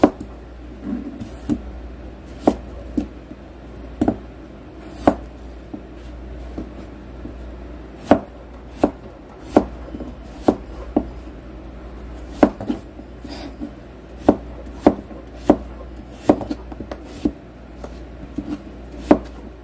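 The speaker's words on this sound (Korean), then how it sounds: "감자 두 개는 먹기 좋게 썰어주세요." Sharp knife strokes chopping potatoes on a cutting board, repeated in an uneven rhythm over a quiet background, with no talking.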